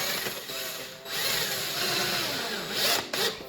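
A power driver runs self-tapping screws into window shade brackets, a close, steady whirring drive with the pitch shifting under pressure, briefly pausing, then a short final burst.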